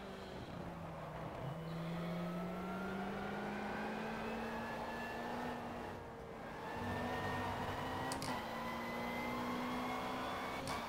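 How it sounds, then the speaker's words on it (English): Engine of a V8 race car in the sim racing game GTR 2, revving loud and continuous as it climbs through the gears, with a brief lift around a shift and a steady high drone. "engine sounds definitely are on point for like this era"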